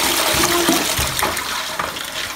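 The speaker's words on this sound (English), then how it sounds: "So now we're gonna drain the water and put some new water in so we get clean water" Water gushing and draining steadily from freshly washed coffee beans in Colombia, a continuous loud splashing rush with no speech.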